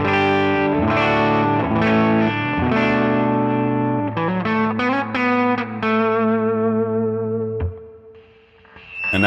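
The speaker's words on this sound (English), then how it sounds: "here is clean." An electric guitar runs through a Browne Protein V3 pedal on its clean setting, ringing out sustained chords and single notes up close and alone, with no talking.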